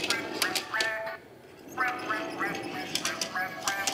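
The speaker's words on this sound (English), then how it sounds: "if you turn it, I don't know if you heard that, it quacks like a duck" A baby toy gives a series of quick, nasal duck-like quacks when turned, bright, close repeated squawks in short bursts, with some indoor background.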